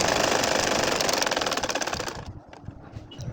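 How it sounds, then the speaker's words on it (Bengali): Electric sewing machine stitching a nakshi kantha quilt, a fast steady mechanical chatter that runs loud and continuous, then slows and thins into quieter, uneven clicks near the end. "এখন দেখো আবারও সেই চিহ্ন অনুযায়ী আমি কিন্তু সেলাই করে নিচ্ছি"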